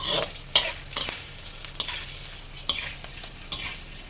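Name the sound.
gram flour roasting in ghee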